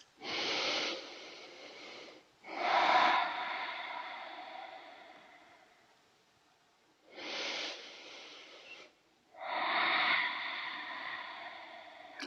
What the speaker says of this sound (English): Close the eyes, take a couple of breaths.